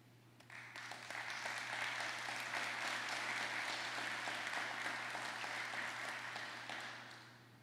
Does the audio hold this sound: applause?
yes